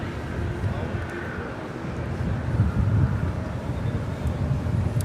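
An airliner begins its takeoff roll on runway 25 Right at Los Angeles International Airport, heard as a distant low engine rumble that swells toward the middle under steady wind noise on the microphone.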